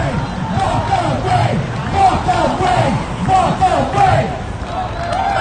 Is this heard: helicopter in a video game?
no